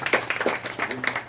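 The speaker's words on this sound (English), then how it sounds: "Can we get another round of applause," A few people at a meeting clap briefly, giving a short burst of separate close claps with a faint voice underneath.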